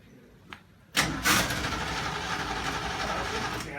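A 1973 Triumph Stag car engine cranks briefly and catches, then settles into a steady rumbling idle, heard close and alone.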